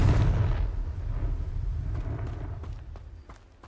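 Confringo blasting spell in Hogwarts Legacy goes off as a short, booming explosion that rumbles and fades over a few seconds, with faint crackling afterward and no voices.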